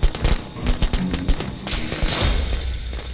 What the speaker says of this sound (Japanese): ちょっと、爆竹すごいな。